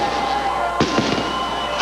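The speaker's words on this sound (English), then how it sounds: "Now fireworks begin to go off on either side of the stage here at the start-finish" Fireworks burst beside the stage at the start-finish line during the 1998 Winston Cup season-ending Napa 500 celebration: three sharp bangs in quick succession over a steady roar of crowd and ambient noise.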